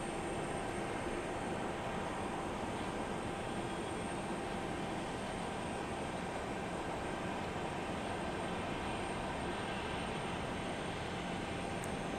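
An airliner arriving at Houston's Intercontinental airport (IAH) gives a steady, loud, broadband roar that holds at an even level for the whole stretch, with no voices.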